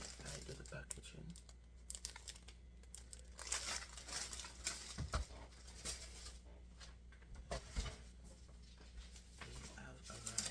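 Packaging for t-shirts is handled up close, producing soft, irregular crinkles and rustles at low volume, with talking alongside.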